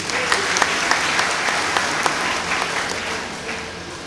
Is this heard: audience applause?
yes